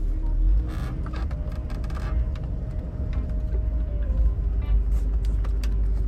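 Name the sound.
Range Rover Vogue SE pulling off and driving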